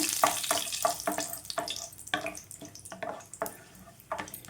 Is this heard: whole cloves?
yes